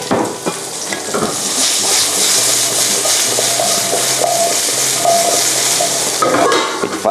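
Pork chop being stir-fried in a pan, a loud busy sizzle with scraping and clinking of a utensil against the pan throughout, no voices.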